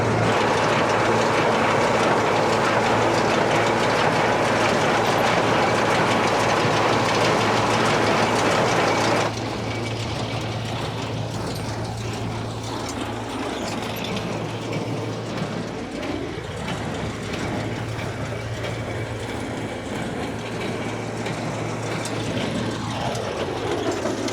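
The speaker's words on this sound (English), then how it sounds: "we're baling pretty good, very dry, so a lot of dust here" A square baler working dry hay in a field beside a tractor, a loud continuous mechanical drone with a low hum that drops in level partway through, with rhythmic rumbling and no voices.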